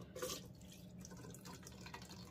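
Water trickles and splashes quietly into a container, a soft continuous pour with a brief brighter splash at the start.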